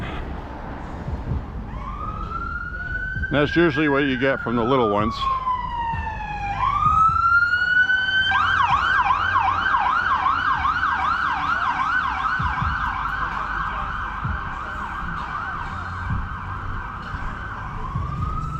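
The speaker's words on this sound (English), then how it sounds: "We got the ambulance driving on the wrong side of the road because of traffic." An ambulance siren wails and then switches to rapid yelping as the ambulance drives on the wrong side of the road through traffic. It is loud and close, sustained throughout, with someone briefly speaking over it.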